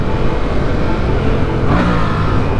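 A Yamaha MT-07 motorcycle engine revs, its pitch climbing sharply partway through, over a steady roar of riding wind and road noise on a cold day.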